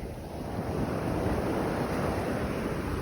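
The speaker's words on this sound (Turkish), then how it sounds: "Evet rüzgar görüldüğü gibi denizden karaya doğru esiyor." Steady wind blowing from the sea toward land gusts across the microphone at the shore, with surf washing underneath and no voices.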